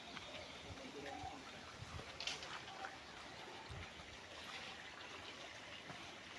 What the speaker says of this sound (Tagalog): May dadaanan tayong maliit na sapa.